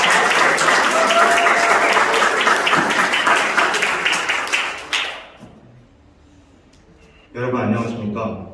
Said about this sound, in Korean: 큰 박수로 환영해